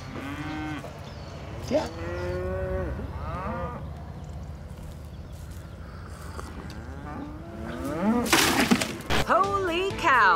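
A huge cow moos repeatedly in a Call of Duty: Black Ops 4 trailer, with long, loud, wavering bellows over a busy background. A sharp crash cuts in near the end, and a voice speaks briefly.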